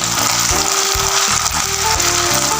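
Ginger and garlic sizzle and crackle steadily in a hot pan while being stirred, a dense, continuous frying hiss with faint scraping and no talking.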